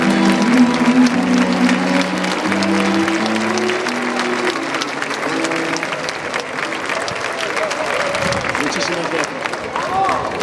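Loud, steady applause from a large street crowd at a Valencia festival gathering in the Plaza de la Virgen, sustained throughout with voices and fragments of music mixed in beneath the clapping.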